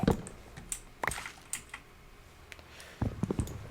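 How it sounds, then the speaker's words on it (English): Scattered sharp plastic clicks, close and quiet, coming in small irregular clusters with pauses between them. "Dang it, I keep bumping my mouse buttons."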